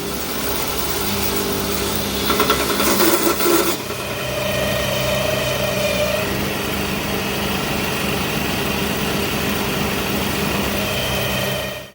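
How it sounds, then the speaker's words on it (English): A wire wheel polishes the divots in a large coal hammer head, making a steady, loud, close grinding whine with a harsh rasping burst early on, running continuously for about twelve seconds without talk. "I'm going to use the wire wheel here to get inside these little divots and get those polished up"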